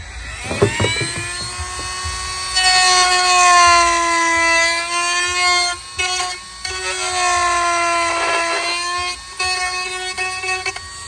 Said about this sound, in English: Using a Dremel tool, be easy on it. Don't go too deep because you will go right through the airbox.